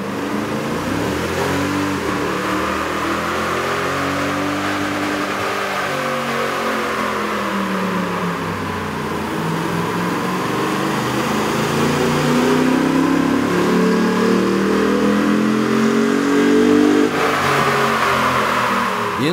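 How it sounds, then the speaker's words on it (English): A Toyota Tundra 4.6-liter V8 with a K&N cold air intake revs on a dyno, its engine note rising and falling in long, smooth sweeps at close range, swelling louder toward the end. "With the air intake installed, we ran the vehicle on the dyno to test the sound comparison versus the stock intake."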